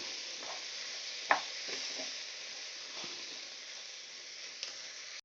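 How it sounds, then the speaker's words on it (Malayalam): Biryani rice with fried onions is stirred in a pan over a soft, even sizzle, with a few faint scrapes and one sharper knock of the spoon. "നമുക്കിതൊന്ന് ഇളക്കി കൊടുക്കാം"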